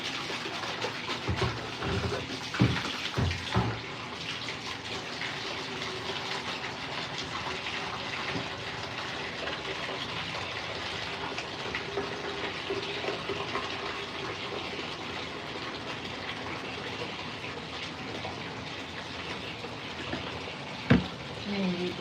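Water runs steadily from a bathroom tap into a container, a continuous hiss lasting the whole stretch, with a few brief knocks and occasional voices in the background.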